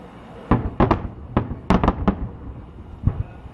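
Fireworks for an Eid al-Fitr celebration in Riyadh burst in a ragged series of about eight sharp bangs, some doubled, loud and fairly close, with brief gaps of quiet between them.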